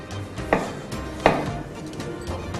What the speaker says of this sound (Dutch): Pakken we de rode biet. Snijden mooie plakjes van.